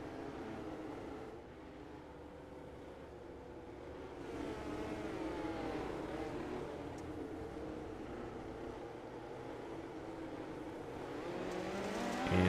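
Dirt midget race cars on a Kokomo dirt track, a steady blended engine drone with rising revs as the field rolls toward the green flag, heard from a distance.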